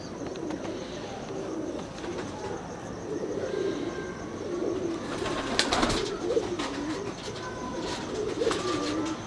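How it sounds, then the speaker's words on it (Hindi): Pigeon cooing comes through low and steady amid a busy outdoor bird scene, with faint chirps over constant background noise; no one speaks. "मजबूत कबूतर है ये भी माशाल्लाह"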